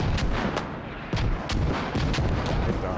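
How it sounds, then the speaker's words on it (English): A grenade explosion in a competitive online shooter match rings out among a dense burst of loud, repeated blasts and gunfire-like cracks, heavy and booming across the whole stretch. "I don't think that was a great nade."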